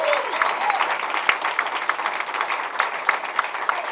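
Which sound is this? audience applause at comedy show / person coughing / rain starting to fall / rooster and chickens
audience applause at comedy show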